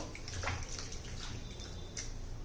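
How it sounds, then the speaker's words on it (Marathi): Chopped potato and capsicum are rinsed in water, with quiet sloshing and splashing that rises and falls in a few soft surges, heard close with no talk. "स्वच्छ असं दोन तीन पाण्याने धुवून घ्यायचे"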